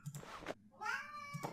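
A cat meows in a short, close vocalization, a drawn-out tonal mew bracketed by brief rustling and chirpy sounds, fairly quiet with no talk.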